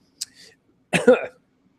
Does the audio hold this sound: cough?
yes